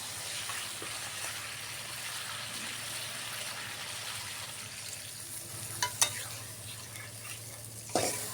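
Spicy pangas fish being sautéed bhuna-style in a covered pan, a steady, moderate sizzle with faint stirring scrapes and a few sharp clinks near the end, no voices.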